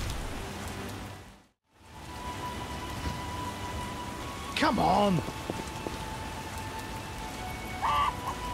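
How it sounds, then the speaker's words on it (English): Steady rain falls in The Witcher: Enhanced Edition, a continuous wet patter that cuts out briefly near the start, with brief game voice lines over it. "Oh, all the rain."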